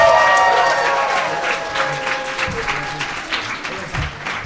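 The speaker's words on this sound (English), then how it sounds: "Give yourselves and everybody up here a round of applause." A festival audience in a concert hall claps and cheers, broad crowd applause that starts loud and gradually settles, with a lingering musical tone fading underneath at the start.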